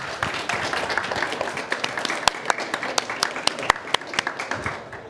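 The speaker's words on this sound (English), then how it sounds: "just a round of applause" A round of applause from a conference audience at the COP29 climate summit, a dense wash of many hands clapping with a few sharp close claps standing out, steady and moderately loud throughout.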